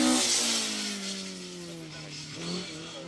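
A Toyota Corolla World Rally car racing on a rally stage, its engine roaring loud and close then dropping in pitch as it passes, with a brief rise near the end and a voice talking over it.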